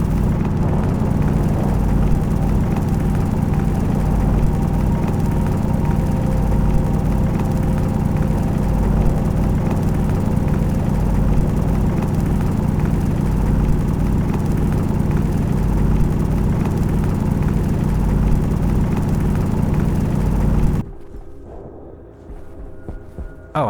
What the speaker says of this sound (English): pneumatic mining drill.